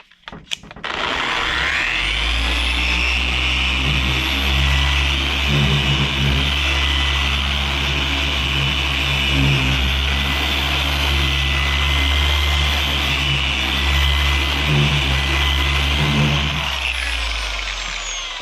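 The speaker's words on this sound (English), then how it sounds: "we're gonna move this out the way, this sander" A power sander working the clear coat on a car during flow-coat refinishing, running with a continuous loud motor whine and steady sanding hiss for over fifteen seconds after a brief start-up, with no talk.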